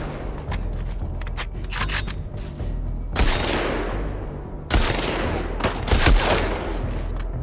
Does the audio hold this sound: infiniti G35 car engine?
no